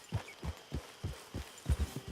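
A horse's hooves clip-clop in steady rhythmic steps in the video game Red Dead Online, close and moderately quiet with no talk over them.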